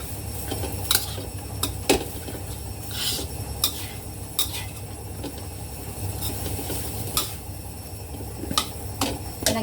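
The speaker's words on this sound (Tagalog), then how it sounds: "hahaluin na natin siya hanggang sa maghimay-himay na" Egg fried rice stirred and tossed in a pan until the grains separate, with repeated metal clinks and scrapes of a utensil against the pan over a steady low background hum.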